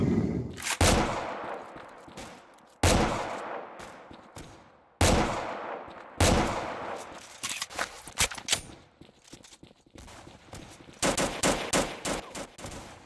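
Desert Eagle pistol shots in the Kuboom shooter game ring out loud and close, first as single heavy blasts spaced a couple of seconds apart, then as quicker clustered volleys, each with a decaying tail and no speech.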